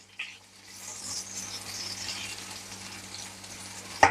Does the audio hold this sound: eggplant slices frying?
yes